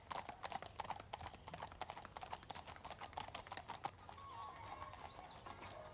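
Horses' hooves clip-clop on a path at a popular spot for walkers and riders, a quick steady run of light, fairly faint beats with faint birdsong around.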